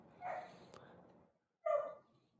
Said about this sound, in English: She is busy wrangling dogs right now that want to bark and be noisy.